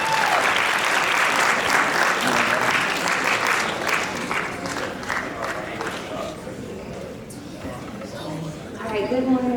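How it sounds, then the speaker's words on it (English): Loud audience applause fills a high school gathering, a sustained dense round of clapping with some cheering that eases slightly midway and swells again at the end, with voices talking over it near the close. "Give them a round of applause."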